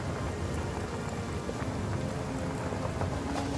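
Rain spell in the fantasy RPG Divinity: Original Sin cast during the Twins boss fight: a steady, dense hiss of falling rain with scattered droplet patter, loud and continuous throughout, no voices.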